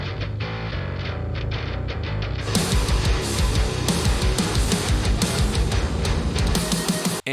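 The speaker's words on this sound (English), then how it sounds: "here is my bass guitar that we have for this track" Bass guitar track for a music mix playing loud and steady, deep low notes thumping under a full band backing that thickens partway through, with no talking.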